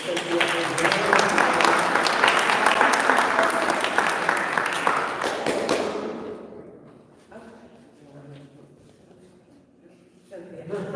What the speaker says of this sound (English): I want to just make sure that they were applauded as well